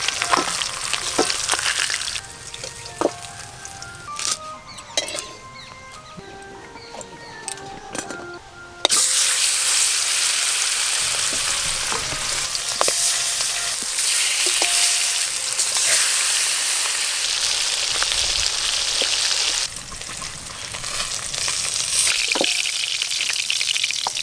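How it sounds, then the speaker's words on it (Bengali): Pieces of walking catfish (magur) fry in hot oil with a loud, steady sizzle and spatter, quieter and broken by clinks of stirring at first, then a dense, continuous crackle running close up to the end. "এইভাবে সব মাছ ভেজে নেব"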